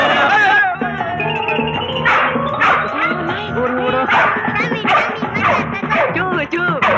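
A small dog barks and yips repeatedly at close range, loud and excited, with whimpering between barks, while people talk over it.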